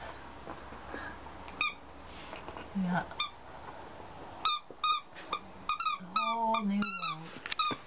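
A puppy playing with squeaky rubber toys, producing sharp squeaks in irregular bursts that grow quicker and denser toward the end, heard close up while a person talks nearby.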